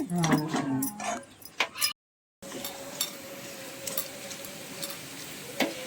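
Green chillies frying in hot oil give a crackling sizzle, with a voice talking and clinks of stirring at the start, then a short gap before a steady, moderate sizzle carries on.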